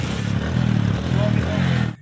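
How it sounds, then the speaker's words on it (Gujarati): Motorcycle engine idling after starting, a loud, close, pulsing low putter with a steady uneven rhythm that cuts out abruptly at the end; a voice talks faintly underneath. "બાઇક સ્ટાર્ટ થઈ જાય છે, કશું પ્રોબ્લેમ નથી આવતો"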